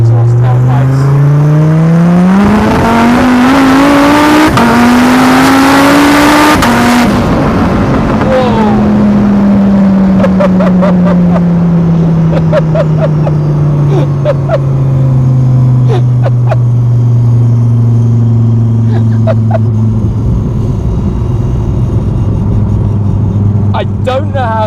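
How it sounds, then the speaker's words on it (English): A car engine revs hard and loud in second gear, its exhaust note through the tailpipes climbing in pitch, then dropping and droning as the car eases off. "The sounds as well, obviously, with the exhaust tailpipes."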